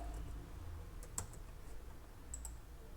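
Quiet computer keyboard typing during a programming tutorial, a few scattered faint key clicks over low background hiss, with no talk.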